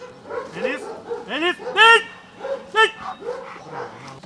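A police service dog barks and yips in sharp, loud bursts during obedience training, with whimpering tones between barks, close to the microphone.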